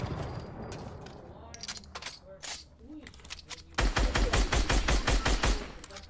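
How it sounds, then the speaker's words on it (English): Assault rifle fire spammed in a video game, scattered single shots and clicks at first, then a fast continuous burst of loud repeated gunfire in the second half. "He's gonna just spam your AR. Spam your AR."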